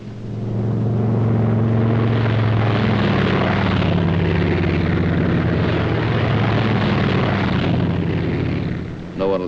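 P-47 Thunderbolt fighter planes of the 57th Fighter Group taking off in Italy in 1944, a loud, steady propeller-engine roar that holds throughout and fades slightly at the end.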